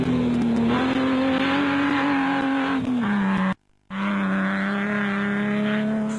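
A Castrol Toyota Land Cruiser off-road race vehicle at a Toyota Dealer off-road race in Sun City, South Africa, its engine droning loud and close at a steady pitch that dips, cuts out briefly, then resumes.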